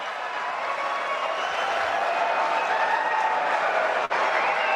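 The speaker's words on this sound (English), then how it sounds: "Look at the crowd howling" A large crowd roars with howls and applause, a dense, sustained wall of cheering and clapping that holds steady throughout.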